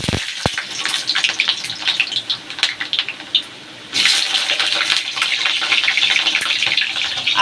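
Raw potato pieces for a soybean curry go into hot oil, giving a loud, gushing hiss that rushes up after a few sharp clatters and holds steady to the end, with no one talking.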